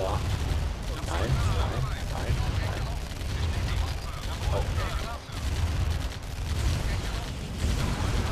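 Gunfire and explosions in Command & Conquer as a silo is destroyed: a dense, continuous crackle of shots and rumbling blasts, with someone talking over the din.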